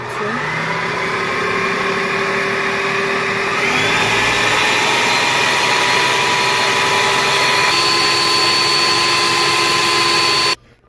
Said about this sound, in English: I would go ahead and blend now the 4 eggs with the 1 quart of milk